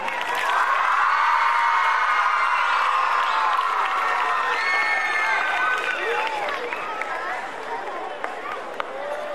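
Students at a Shri Satya Sai Vidya Mandir school gathering cheer and shout continuously as medal winners are honoured, a loud, sustained crowd roar with many high voices and whoops, mixed with claps.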